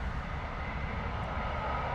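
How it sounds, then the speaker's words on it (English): An Air Canada Airbus A330 arriving from Toronto roars in to land at London Heathrow, a broad, steady engine rumble that stays loud and unbroken throughout. "Air Canada A330 coming in from Toronto"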